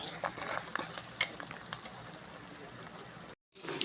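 A chicken pickle mixture is stirred in a pot, giving soft scraping and clinking with a faint sizzle, close by. A short silent gap comes near the end.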